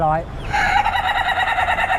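A laughing chicken breed at a market lets out a long, loud rolling call of repeated pulsing notes, close to the microphone, following a brief lower sound at the start.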